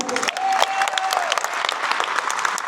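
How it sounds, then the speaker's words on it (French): An audience applauds a poker player at a poker event in Colmar, with dense, steady clapping lasting the whole stretch and a brief whistle tone near the start. "je vous demande de faire un tonnerre d'applaudissements pour Julien Sipon."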